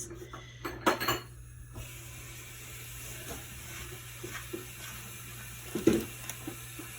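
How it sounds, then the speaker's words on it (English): Dishes being washed in a kitchen sink: scattered clinks and clatters of a dish and cutlery, with a sharper knock near the start and another near the end over a low steady hum and soft water-like hiss. "Intermission while Joe washes a dish."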